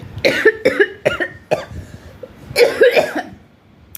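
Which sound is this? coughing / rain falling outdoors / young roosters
coughing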